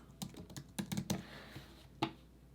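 Keys clatter on a computer keyboard in quick bursts, a handful of sharp taps close up followed by a pause and one last keystroke, with no voices.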